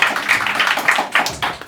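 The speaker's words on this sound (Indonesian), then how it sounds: "Boleh tepuk tangan." Audience applause at a talk show, a short burst of scattered hand claps that is fairly close and uneven, with no voices over it.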